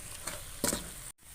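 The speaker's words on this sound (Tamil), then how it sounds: "இதை நல்லா மிக்ஸ் பண்ணி விட்டுக்குங்க." A quick scrape of a spoon through a pan of sizzling mutton curry with turmeric, soft frying hiss underneath with a couple of brief stirring strokes.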